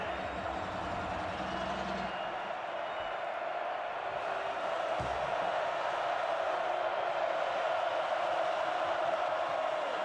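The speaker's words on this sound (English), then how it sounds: "here comes this crowd inside Nippert" A college football crowd at Nippert Stadium roars as a steady, dense wash of cheering noise from the stands, loud and sustained across a third-down play, with faint commentary underneath.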